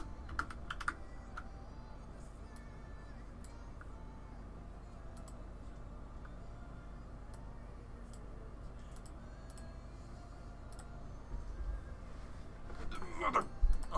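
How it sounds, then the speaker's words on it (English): Typing on a computer keyboard: soft, fairly quiet clicks and taps, scattered and irregular over a low steady background hum, getting busier toward the end, with no talk. "Okay, I'm typing it out."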